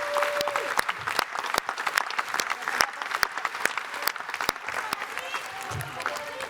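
Applause at a trade union congress in a hall, a crowd clapping with sharp, uneven hand claps spread across the room, sustained throughout with faint voices underneath.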